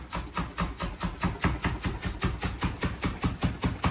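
A knife chops a leek on a cutting board in quick, steady strokes, about four crisp, close thuds per second, with no talk over them.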